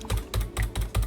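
Someone types on a computer keyboard while playing a game: quick, close keystrokes fall in five evenly spaced bursts, with no other sound behind them.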